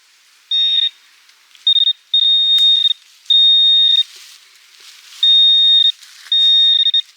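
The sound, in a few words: metal detector signal beeping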